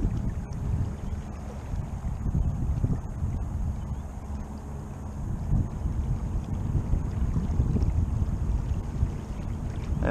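A boat heads out across a marsh just after leaving the landing, its steady low engine and water rumble mixed with continuous wind buffeting, close and fairly loud throughout with no talking.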